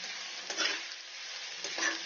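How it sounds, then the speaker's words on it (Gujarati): Chopped onions frying in a pan until golden brown, a close, muffled sizzle with two bursts of stirring and scraping, no talk. "આ ડુંગળી ગોલ્ડન બ્રાઉન થાય ત્યાં સુધી આને થવા દેવાનું છે"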